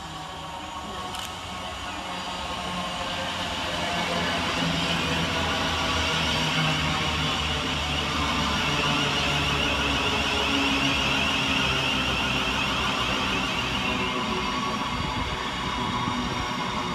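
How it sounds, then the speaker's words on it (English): A Class 700 Govia Thameslink train pulls into Hassocks station on a Brighton to Bedford service, its rumble and hum building steadily over the first seconds and then holding as a loud, continuous rolling drone. "Arriving next into the station is 700 127, working the 1538 Govia Thameslink service from Brighton to Bedford."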